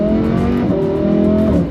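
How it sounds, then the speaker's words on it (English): A Lamborghini Huracan engine pulls hard through a quick dual-clutch gearshift, its loud, close engine tone dipping briefly and climbing again in one continuous burst. "What will provide you with satisfaction though is the dual clutch gearbox."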